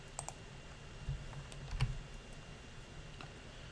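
Someone types program code on a computer keyboard in quiet, scattered keystrokes and soft clicks. The taps are close but faint, with short pauses between small runs.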